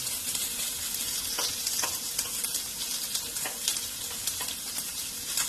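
Thinly sliced onions sauté in oil with garlic, ginger and curry leaves for a Kerala-style chicken curry. A dense, steady sizzle runs throughout, with regular scraping strokes of a spoon stirring the pan close by.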